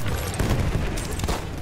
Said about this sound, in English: another heavy bomb!